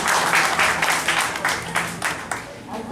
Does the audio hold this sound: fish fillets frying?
no